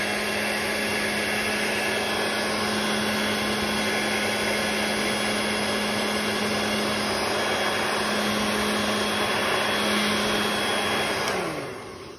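A hair dryer blows on wet paint washes in an art studio, a loud, steady whirring drone that holds evenly for about eleven seconds before it is switched off and winds down.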